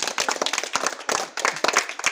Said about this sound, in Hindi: ताली बजाओ यार उनको